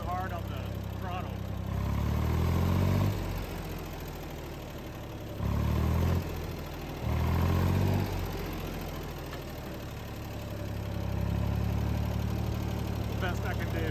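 Ford 2600 tractor engine running steadily at low, governed revs in high gear, a continuous close rumble that swells in a few short surges, with someone talking over it.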